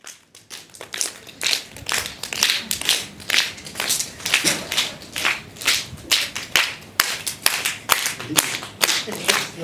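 A group claps lightly with three fingers in a steady, rhythmic pattern of crisp, close taps that continues throughout, with a few faint voices underneath.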